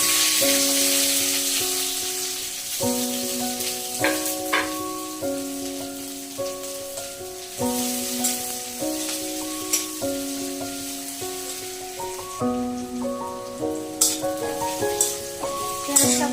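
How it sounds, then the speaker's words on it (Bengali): Chopped onion sizzles in hot oil with cumin seeds and cardamom, a steady crackle that sits under loud, melodic background music throughout. "তেলটা গরম হয়ে গেছে এর মধ্যে ফোড়ন দিয়ে দেবো জিরে আর হচ্ছে এলাচ তার মধ্যে পেঁয়াজটা দিয়ে দেবো"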